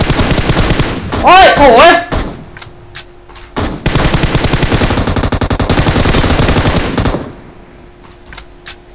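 Bursts of automatic gunfire from bots in the PUBG Mobile shooter crackle close and loud in rapid volleys, with a pause between, while a man cries out in pain over the shots.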